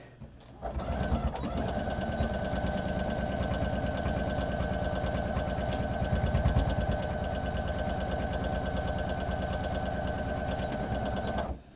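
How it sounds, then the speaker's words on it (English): Sewing machine stitching the bottoms of fabric boxes, starting up after a short pause and running in a steady rapid mechanical chatter for about eleven seconds before stopping. "So now I'm going to sew these bottoms as well."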